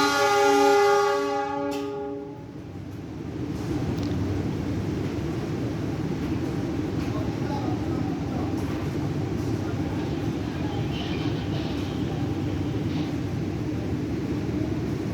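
KA Argo Sindoro train pulling out of a station in Indonesia, opening with a loud sustained horn blast that cuts off, followed by a steady low rumble of the moving train and station noise.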